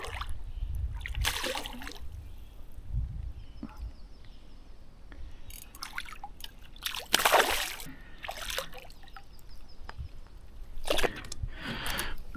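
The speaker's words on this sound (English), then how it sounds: "Wetting my hand with the net." Water splashing as a hand is wetted in a fishing net beside a boat while fly fishing for smallmouth bass, with several close, irregular splashes and sloshes between quieter moments.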